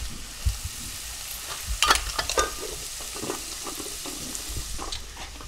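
Chopped vegetables with ginger and salt sweating in a pan for a vegan Thai green curry, giving a soft steady sizzle with a few stirring scrapes and clicks, close by and with no one talking.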